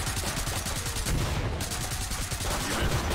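Rapid automatic gunfire in the co-op shooter Killing Floor 2, loud, sustained bursts of closely spaced shots with a brief break midway, then more firing.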